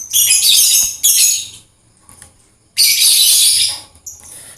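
Lovebird chirping loudly and close, in two long bursts of dense, shrill calls with a short quiet gap between them and a softer chirp near the end.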